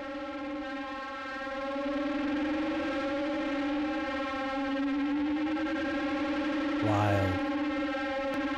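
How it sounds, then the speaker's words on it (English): Harmonizer effect pedal plugged into itself, producing a dry internal noise of steady layered droning tones that swell slightly, with a brief rising warble near the end, moderately loud and alone. "This is just the noise inside the machine."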